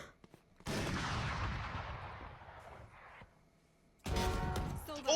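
Gunfire from the video game Valorant bursts out in loud, sharp volleys, first a long decaying blast then another burst near the end, with faint voices in the background.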